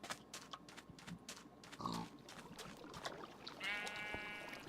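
Pigs in a Minecraft-style video game let out several faint, short grunts and squeals over a low background hum, with a longer squeal near the end.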